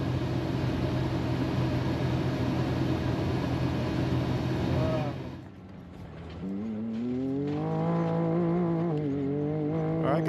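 Stock car racing in the Vegas to Reno desert race, with a loud, steady engine drone that dips briefly midway, then returns with rising and falling revs as the car accelerates and shifts.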